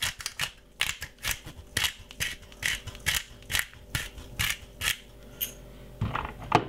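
A pepper mill grinds pepper over a mackerel salad in quick, rhythmic crunching bursts, a steady run of close, crisp grinding clicks with no talking.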